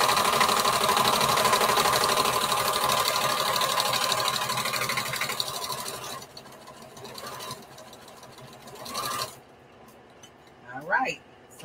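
Sewing machine sewing a patchwork bandana T-shirt dress, a loud continuous rattling hum close by for several seconds before slowing and stopping, followed by brief clunks and a faint voice near the end.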